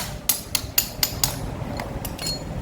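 About eight light hammer-like taps knock on an old lithium battery pack to loosen its cells. The taps come in a quick, fairly even series, pause briefly, then resume, with no talking.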